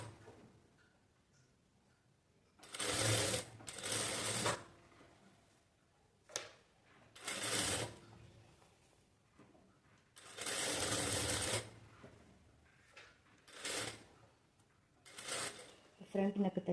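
A sewing machine stitching the front neck of a halter neck blouse, running in several bursts of rapid whirring of one to two seconds each, separated by quiet pauses with light handling.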